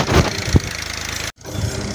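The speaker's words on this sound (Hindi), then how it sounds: "आज हम काम कर रहे हैं अपने ट्रैक्टर के साथ" A tractor engine runs steadily at close range on a flood-prone site where soil is being laid beside shops, with a continuous low rumble and one brief dropout.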